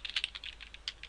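Quick, light clicking of computer keyboard keys as code is typed, a faint, rapid run of keystrokes in irregular rhythm, alone without talk.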